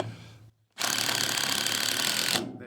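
A self-tapping screw is power-driven into the end grain of wood in a garage workshop: a short pause, then a single loud, steady grinding whir lasting well over a second before it cuts off.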